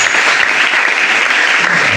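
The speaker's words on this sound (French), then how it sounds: "Je vais que tu acclames très fort pour la gloire du Seigneur." A church congregation clapping and cheering loudly and steadily, a dense continuous wash of applause throughout.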